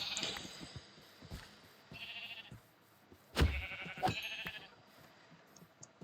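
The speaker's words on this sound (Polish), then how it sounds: "W końcu mam jakieś owce." Several Minecraft sheep bleats ring out at intervals, clear and fairly close, over a quiet background with scattered soft clicks and taps.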